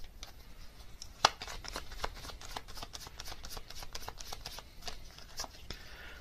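A tarot card deck is shuffled by hand in a steady run of soft, rapid, papery flicks and riffles. The sound is close but quiet, with one sharper snap early on and no talking.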